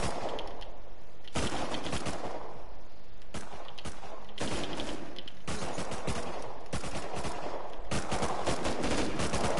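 AK rifle fire in the survival game Rust, loud close bursts of automatic shots coming in repeated volleys with brief gaps, dense and continuous across the stretch.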